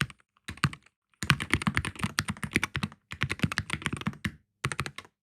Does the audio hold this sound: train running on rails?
no